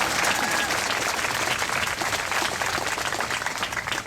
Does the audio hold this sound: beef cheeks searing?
no